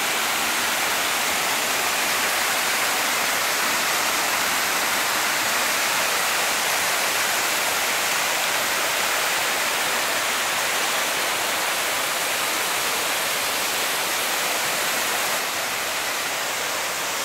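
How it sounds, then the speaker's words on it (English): Laurel Falls, an 80-foot waterfall in Gatlinburg, heard as a steady continuous rush of falling water, broad and even throughout with no voices. "The waterfall is only 80 feet,"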